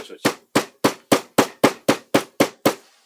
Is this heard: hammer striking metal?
yes